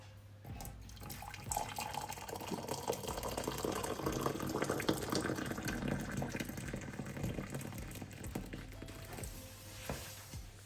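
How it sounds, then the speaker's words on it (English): Tap water runs steadily into a bowl for rinsing rice, a continuous splashing flow that swells slightly midway and then tapers, close and fairly quiet in a home kitchen. "We just need some water."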